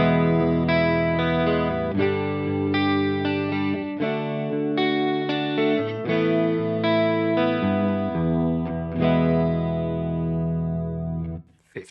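An electric guitar played through a Fractal unit's chorus effect, mixed with less chorus than dry signal, plays a clean, shimmering melodic passage of ringing notes and chords, steady and close, fading out at the end.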